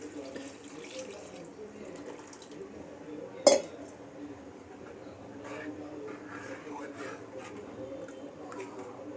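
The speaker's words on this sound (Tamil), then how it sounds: "இதுக்கு தேவையான அளவு தண்ணி" Water pours and splashes into a vessel amid kitchen clatter while fish curry is cooked, with people talking over the running liquid.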